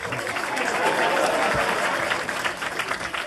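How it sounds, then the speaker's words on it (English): Audience clapping at a live Lil Nas X review event, a moderate burst of many hands applauding with faint crowd murmur and chatter mixed underneath, fairly steady across the short stretch. "We deserve that clap."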